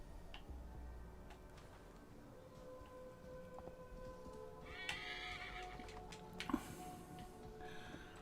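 In the video game Assassin's Creed Valhalla, a summoned horse whinnies faintly amid quiet clip-clopping hooves, with a second sharper neigh near the end against a low ambient background.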